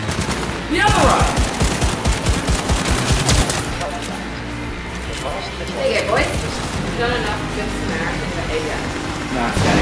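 Rapid gunfire from the video game Cyberpunk 2077, bursts of shots crackling close and loud, with excited voices talking and shouting over the action throughout.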